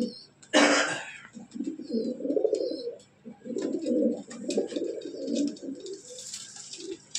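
Green-spotted pigeons kept indoors in a loft coo in low, rolling phrases close by, with a sharp cough near the start and faint higher chirps in the background.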